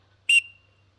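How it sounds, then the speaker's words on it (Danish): A single short, high-pitched blast on a TDA Teal Duo teal duck call whistle, close and crisp, ending with a thin fading tail over near silence. "Det er en ganske almindelig lille fløjte."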